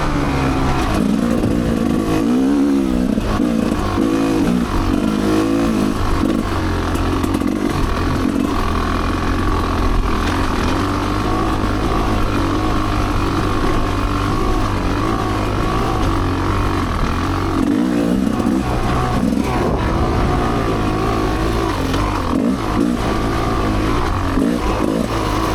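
Off-road vehicle riding along the Frederic ORV trail, its engine droning loud and steady throughout with shifting revs and rumble, no talk.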